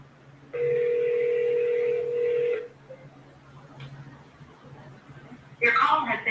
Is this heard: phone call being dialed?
yes